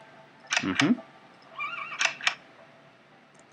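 A horse in a stable in the video game Minecraft neighs twice, a shrill whinny followed by a second, softer one, over a low background hum.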